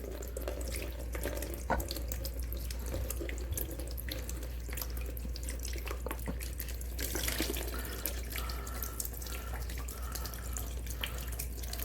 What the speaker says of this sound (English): I'm going to loosen the radiator cap so it'll drain